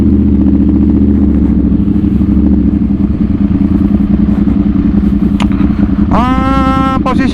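A Ducati Monster 796 motorcycle engine runs loud and close during a test ride, a constant throbbing rumble that rises into a brief rev near the end.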